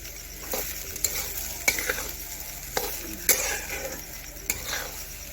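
Sprouted moth bean curry (matki usal) with green chilli sizzles steadily in a pan while a spoon stirs it, with sharp scraping clacks against the metal every second or so, close and fairly loud.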